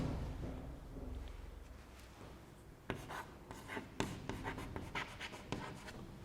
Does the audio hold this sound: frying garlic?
no